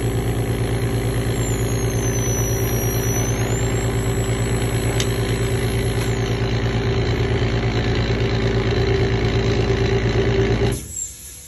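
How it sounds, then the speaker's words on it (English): An Airlight LED dental air turbine handpiece with triple water spray runs at full speed, giving a piercing, steady high whine over a constant mechanical drone, then cuts off abruptly just before the end. "This handpiece has very high cutting power with 23 watts of torque."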